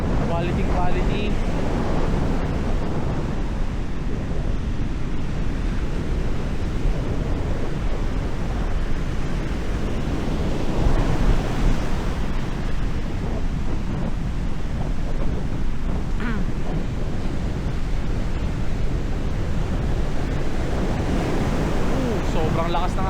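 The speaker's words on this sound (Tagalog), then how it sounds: "Sobrang lakas ng alon, guys." Strong Pacific Ocean surf at a viewdeck in Dingalan, Aurora: a constant, loud roar of crashing waves with heavy wind buffeting the microphone, with no voices throughout.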